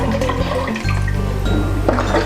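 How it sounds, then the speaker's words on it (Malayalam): Water poured into a pot while making ginger wine, a steady liquid gush running the whole time, close and fairly loud with no voices over it. "2 ലിറ്റർ വെള്ളം."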